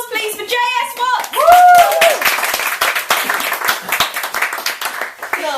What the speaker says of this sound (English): a huge round of applause, please, for J.S. Watts